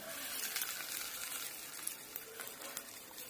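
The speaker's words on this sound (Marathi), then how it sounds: "आपण ही फोडणी आता कोशिंबीरमध्ये टाकूया" Hot spice tempering sizzles and crackles steadily as it is poured into a tomato-cucumber salad, with small pops scattered throughout, close up and without voices.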